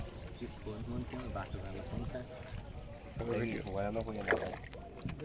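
A rowboat glides across a large lake lined with lotus flowers while other boats circle nearby, its soft water and hull sounds steady beneath continuous close conversation.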